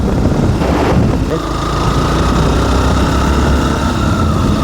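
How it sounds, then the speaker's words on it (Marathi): A loud four-cylinder motorcycle engine roaring past up close, a rising burst then a steady droning whine, amid heavy wind and road noise. "मला वाटतं 4 सिलेंडर बाईक होती."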